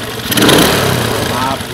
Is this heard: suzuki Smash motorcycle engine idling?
yes